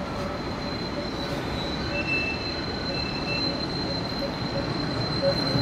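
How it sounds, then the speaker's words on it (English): A tram's wheels squeal steadily against the rail on a city line, a sustained high-pitched screech that runs unbroken over a constant rumble of the passing car, loud and close throughout. "He's squealing all the way along"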